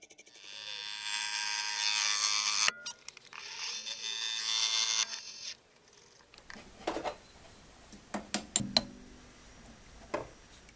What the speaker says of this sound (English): An aluminium fixture, which is just a block with a hole drilled in it and a bit filed out, is used with a slitting saw to trim the excess off.